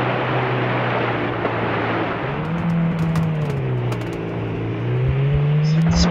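A car engine drones steadily in a video game, its pitch sliding up and down as the vehicle speeds up and eases off, loud and continuous, with faint clicks near the end.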